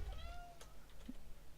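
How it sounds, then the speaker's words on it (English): A pet cat named Demos meows once indoors, a short, clear, nearby call with a rising-then-falling tone, heard alone without talk. "Oh, hello Demos, what's you meowing about?"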